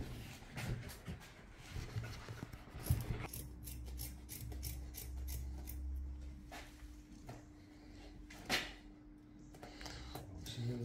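Scissors snip and rustle through material while a storage cupboard is built for a van, giving irregular sharp cuts and scraping over a low steady hum, fairly faint and with no talking.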